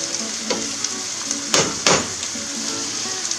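Chicken with peppers and potatoes sizzling and frying in a pan, a steady crackle with a few sharper bursts as the food is stirred, close and without talk.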